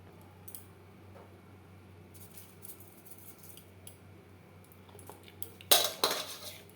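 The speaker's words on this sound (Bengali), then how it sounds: "লবণ হলুদ মাছে বেশ ভালো করে মেখে নেবো" Fish pieces are mixed by hand with turmeric and salt in a bowl: a quiet stretch of faint clinks, then a short burst of loud, wet squishing and metal clatter near the end.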